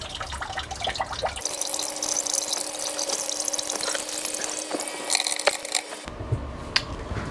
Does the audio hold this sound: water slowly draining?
yes